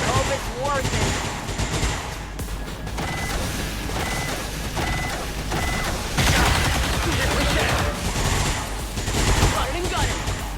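Bursts of automatic gunfire and impacts from an XCOM 2 firefight run steadily through the clip, loud and dense, with a louder flurry midway and voices talking over the shooting.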